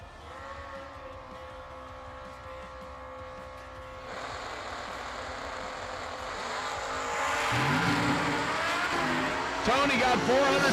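At a drag racing event, a Camaro and a Kawasaki motorcycle launch down the strip. Engine roar builds from a distant idle to loud, rising revs, and a track announcer talks throughout.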